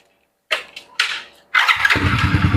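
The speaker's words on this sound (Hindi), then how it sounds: "तो हम आपको बाइक स्टार्ट करके दिखाएंगे" A motorcycle engine is started: two short cranking bursts, then it fires and catches into a steady, close idle.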